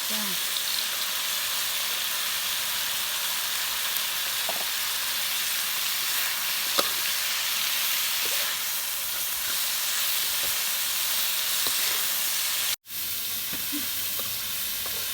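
Crispy fried catfish is stir-fried with kaffir lime leaves and green peppercorns, making a continuous close sizzle with a soft steady hiss and a few light clicks of stirring.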